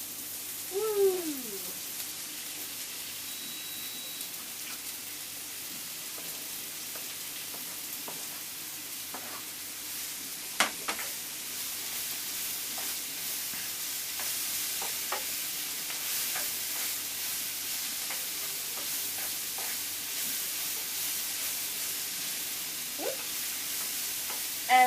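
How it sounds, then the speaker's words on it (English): Mushrooms and onions fry in a pan, giving a steady, moderate sizzle that runs throughout. A few occasional scrapes and knocks from stirring break through the sizzle. "And now we're going to add the mushrooms into the pot, frying pan."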